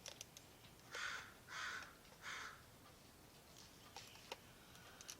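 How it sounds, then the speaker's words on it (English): A crow caws three times in a quick row, loud relative to a quiet room, followed by a few faint ticking sounds. "Can you guys hear the extremely loud crow?"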